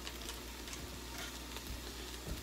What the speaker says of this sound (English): And we stir that up now.